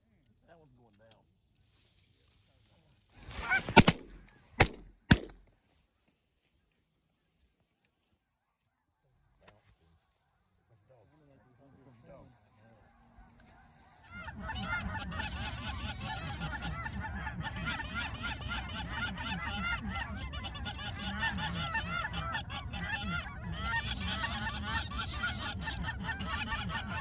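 Geese honking during a West Texas goose and crane hunt, a few loud bursts early on, then a dense continuous chorus of distant honking from a big flock that fills the second half.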